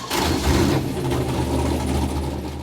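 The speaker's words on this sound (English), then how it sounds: "This engine fired up immediately with 0 issues." A Chevrolet Caprice engine runs on a dyno, a loud, close mechanical drone with a brief rise in revs at the start before settling into a steady run.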